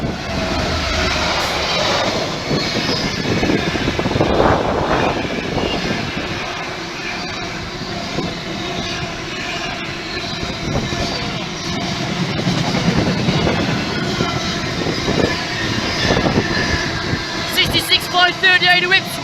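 Class 66 diesel locomotive hauling an intermodal freight train past on a railway line, a loud sustained rumble and clatter of wagons close by, with a voice calling out over it.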